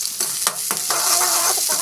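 Onions frying in hot oil crackle and sizzle up close, with a spoon stirring and scraping through them in several quick strokes over a steady hiss.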